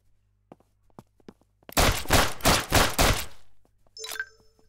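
Rapid bursts of gunfire in a zombie video game, Global Pandemic: End of Times, fire in a short volley of about five loud shots after scattered faint clicks and thumps.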